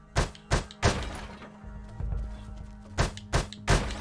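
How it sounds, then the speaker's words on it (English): Wooden boxes are smashed in the retro action video game UnMetal, a run of sharp cracking thuds, several in quick succession, then a low rumbling pause before three more loud breaking hits. "They don't mind me smashing these boxes, at least."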